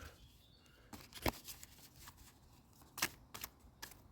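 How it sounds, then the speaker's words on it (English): Cards riffle and snap in short bursts, with a few crisp flicks and quiet shuffling between them, close and fairly soft. "Just going to mix them up a bit here. Shuffle them around."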